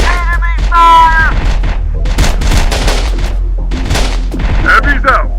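Gunfire in the video game Terminator Dark Fate Defiance: loud bursts of shots and heavy booms crowd together close up, with radio voice callouts in between.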